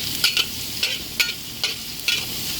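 Onions frying in a pan, sizzling softly while a utensil stirs them in about five quick scraping strokes, close by with no talking.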